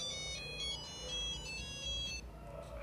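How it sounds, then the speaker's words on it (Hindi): A mobile phone ringtone plays a short electronic melody, fairly clear over quiet low background noise. "वो बाइक चला ही रहे थे कि तभी उदय को मोबाइल पर नरेश का फोन आया।"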